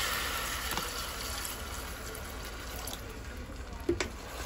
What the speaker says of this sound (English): I'm gonna add like a cup of water as well.